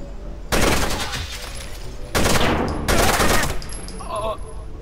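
Loud bursts of automatic gunfire from a hard-kicking gun in Rainbow Six Vegas, three separate volleys of rapid shots with short pauses between them, fading to quieter game noise at the end.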